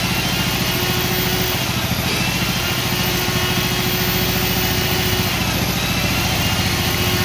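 A small fuel-injected motorcycle engine with excessive fuel consumption runs steadily up close, a loud buzzing drone held at a constant high pitch.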